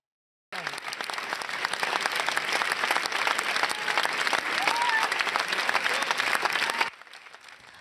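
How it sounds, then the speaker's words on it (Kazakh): A standing ovation at the Cannes Film Festival: dense, loud, sustained applause from a large audience starts abruptly and continues for about six seconds before cutting away. "әлемдік кино майталмандарының өздері аяқтарынан тік тұрып қол шапалақтады"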